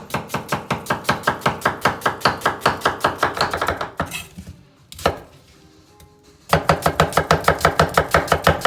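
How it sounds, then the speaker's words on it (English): A knife chops onions on a cutting board for a Persian herb and lamb stew, with rapid, even, close thuds that pause for a few seconds before the rhythmic chopping starts again. "just cut it in half and now like chop it"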